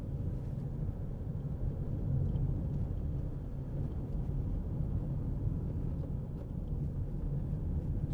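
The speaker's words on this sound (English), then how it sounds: "Just bit of tyre noise, This is a fairly rough road, so it does bring it out a little bit more" Tyres of a 2008 Nissan X-Trail 2.0 dCi 4WD roll over a rough road, making a steady low cabin rumble and roar with faint wind noise and no talking.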